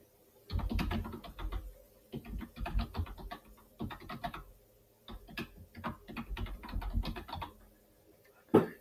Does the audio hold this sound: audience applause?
no